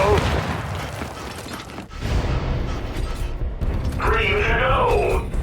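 A frag grenade goes off in Gears 5 horde mode amid dense, loud battle noise: a sustained rumbling blast with crackling debris and constant gunfire, with a brief lull before the din surges again.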